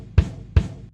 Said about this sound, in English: whenever I play my kick drum sample